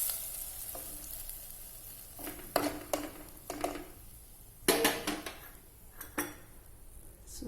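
Green chilies dropped into hot oil for a dal tempering (fodni) with the gas off give bursts of frying sizzle, rising in several loud spurts between quieter stretches, with a few utensil clinks and stirring sounds.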